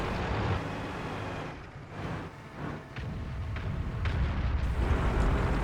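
Deep booming cannon shots from an AMX 13 57 GF tank in a tank video game, a few muffled blasts punctuating a steady low rumble of engine and battle noise.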